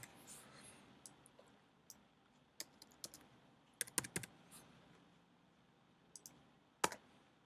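Quiet, scattered keystrokes on a computer keyboard, typed in short irregular bursts of soft clicks with pauses between them and no talking.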